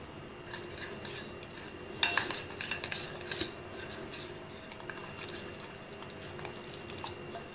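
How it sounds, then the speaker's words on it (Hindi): Spoon clinks and scrapes against a bowl as yogurt is stirred into a spice mixture for achari chicken, a brief burst of clattering in the middle, then quieter stirring. "बाकी मसाले में ये दही शामिल करेंगे, इसको अच्छी तरह से मिक्सअप कर लेंगे।"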